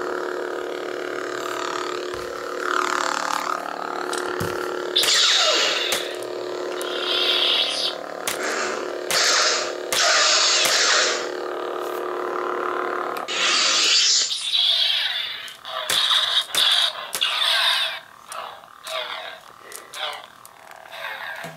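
Anakin Force FX and Ultimate FX lightsaber replicas from Star Wars Episode 3 buzz and hum loudly, with swinging swooshes, clashing crackles and a power-down, followed by quieter intermittent bursts.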